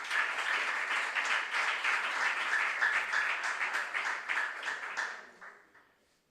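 A crowd applauds steadily for several seconds at a school science and maths quiz competition, dense clapping that tapers off and fades out near the end.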